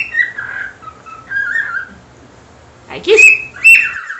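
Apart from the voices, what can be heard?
cockatiel whistling and singing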